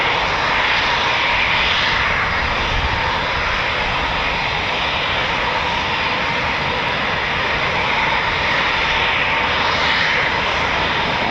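Eurofighter Typhoon FGR4 jet engines spool up at RAF Coningsby, a steady, loud, sustained roar and whine with no talking.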